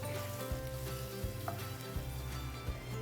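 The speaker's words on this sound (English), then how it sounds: "I'm going to put in some of the sausage. What we want to do here is we want to brown it on all sides until there is nothing pink." Sausage with onions browning in a pan, a steady soft sizzle and crackle with a low rhythmic hum repeating underneath.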